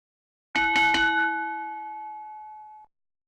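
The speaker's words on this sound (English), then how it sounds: "And the bell is rung." A wrestling match bell in Second Life rings out with a few quick struck dings, then a single clear tone rings on and fades over about two seconds, alone against silence.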